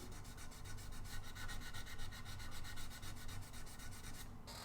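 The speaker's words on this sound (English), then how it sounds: "I'm sanding too" Wood being sanded by hand during guitar building, a steady close rasping rub that keeps an even back-and-forth rhythm throughout with no voices.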